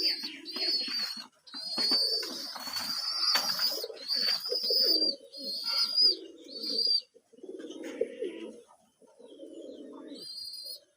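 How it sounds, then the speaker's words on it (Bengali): Pigeons coo repeatedly in a series of soft, close, rhythmic calls beside a duck and chicken coop under a jackfruit tree, with brief pauses and a few higher chirps, no voices. "সুন্দরভাবে ডাকতেছে কবুতর।"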